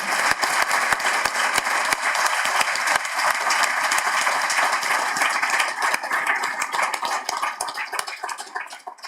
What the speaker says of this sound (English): the first round of applause is going to go to all of you